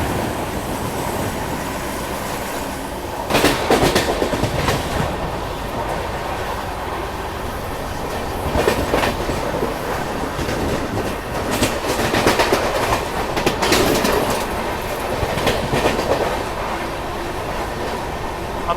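Mahabodhi Express with blue ICF coaches rolling along the rails, a steady loud rumble broken by repeated clickety-clack bursts and the occasional wheel squeal, heard from on board with no talking.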